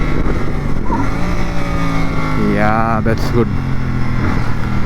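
650 motorcycle engine humming steadily at cruising speed while riding, loud and close with wind rush, and someone speaking briefly over it.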